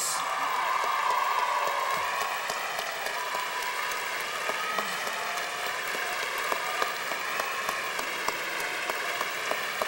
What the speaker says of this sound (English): the graduates should applaud their families and friends who have supported them through the years